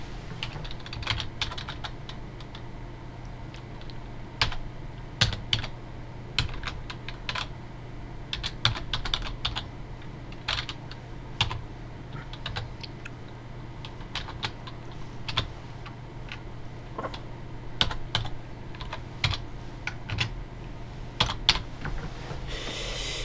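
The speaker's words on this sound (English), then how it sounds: "I will go ahead and type in my product key" Computer keyboard typing a Windows 2000 product key, quick irregular bursts of keystrokes running steadily over a low constant hum, fairly close, with short pauses between groups of keys.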